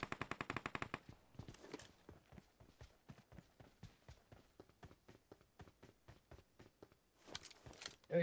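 Rapid automatic gunfire in PUBG Mobile, a fast burst of evenly spaced shots at the start followed by a long run of steadier single shots, with a louder sharp burst near the end.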